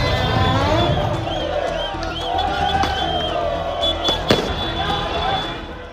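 Crackling firecrackers and scattered fireworks bangs pop over a noisy outdoor crowd of football supporters lighting flares in the street, with one sharper loud burst standing out near the end.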